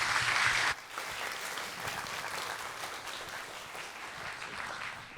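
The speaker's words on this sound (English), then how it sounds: "Let's give them a big round of applause." A packed audience at the MS&T Connect 2026 event claps for a panel of experts, a steady, dense round of applause after a brief louder burst at the start.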